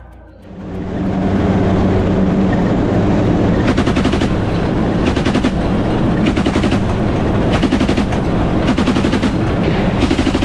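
Loud, close bursts of rapid automatic gunfire from a Russian combat vehicle over a heavy engine rumble, the firing coming in repeated volleys.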